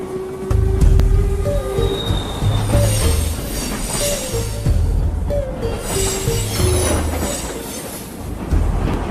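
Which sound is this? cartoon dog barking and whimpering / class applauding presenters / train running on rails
train running on rails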